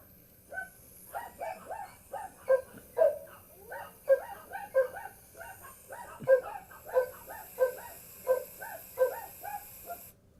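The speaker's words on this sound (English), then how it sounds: "Oh, dog's going off." A dog barks repeatedly in a steady rhythm of sharp, moderately loud barks mixed with a few yips, heard alone at a slight distance.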